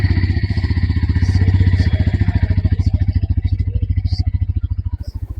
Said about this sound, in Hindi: टॉप मॉडल का एग्जॉस्ट साउंड कुछ इस तरह का है।